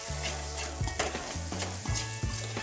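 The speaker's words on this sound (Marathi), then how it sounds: "आता हे चांगल्या प्रकारे मी मिक्स सुद्धा करून घेत आहे" Pigeon pea chutney mixture with salt being stirred in a pan: a close, short run of repeated scraping and clinking strokes against the pan over a soft sizzle, with low tonal hums between strokes.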